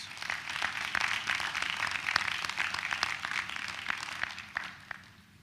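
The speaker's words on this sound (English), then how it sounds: "Let's give them a round of applause." Sustained audience applause at a university Founder's Day ceremony honoring service award recipients, steady clapping from a crowd held at moderate level for several seconds before tapering off.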